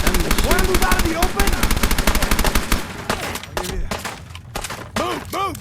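Gunfire in a video game, a loud, dense stream of rapid automatic shots that thins into scattered single bursts and ricochet-like whines, with a voice speaking over it.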